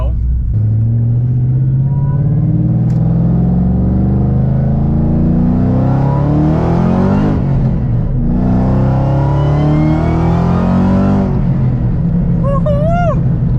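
A swapped Mustang with a 5.4 engine accelerates hard, its loud, close engine note climbing steadily in pitch, briefly dropping at a shift, then screaming upward again before backing off.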